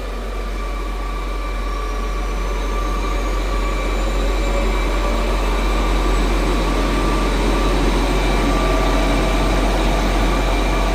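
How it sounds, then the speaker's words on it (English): John Deere 8RX tractor engine running steadily at idle, a continuous loud mechanical drone with sustained tonal whine, alone without talk. "I'm going to start this tractor up and drive ahead."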